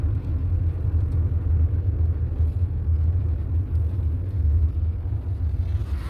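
Car moving in third gear around a turn at low speed during a driving lesson, heard from inside: a steady, loud low engine and road rumble with no talking.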